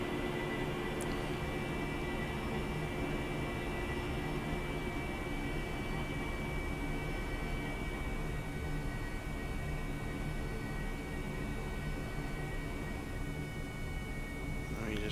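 An AV-8B Harrier jet taxiing in the flight simulator game DCS World gives a steady, loud engine roar and whine with a constant high tone, unbroken throughout.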